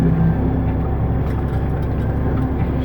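A GMC 5 Star General truck with a 350 Cummins engine idling, a loud close diesel rumble with a steady low throb, continuous for the few seconds with no talk.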